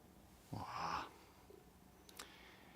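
A cat purrs about two feet from the microphone in a quiet room, a short breathy rumbling burst lasting roughly half a second, followed by near silence with a few faint ticks and no voices.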